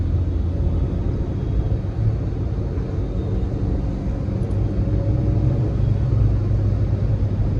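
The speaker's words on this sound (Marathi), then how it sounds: "बापरे ट्रॅफिक बघा किती आहे." Dense highway traffic near Goregaon makes a continuous low rumble with a steady roar of passing vehicles, no voices.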